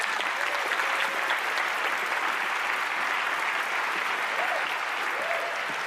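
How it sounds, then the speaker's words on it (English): A studio audience at a magic show gives a volunteer a big round of applause as she joins the stage. The clapping is dense and sustained for several seconds, with a few brief cheers rising above it. "let's give her a big round of applause"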